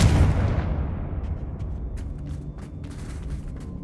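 A Confringo blasting spell explodes in Hogwarts Legacy, opening with a loud, deep boom that decays into a rumbling tail, with scattered crackles and debris clicks following.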